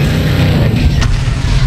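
A tank fires in Dead Rising 3, a loud booming blast over rumbling game noise, heard once in a short burst.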